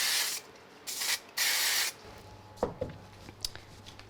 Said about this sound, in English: so I'm just going to give a quick spray.